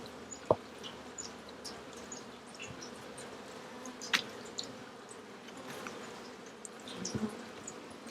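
Honeybees hum steadily around working hives on a farm, a low continuous outdoor buzz with a few sharp clicks and knocks from handling the hive.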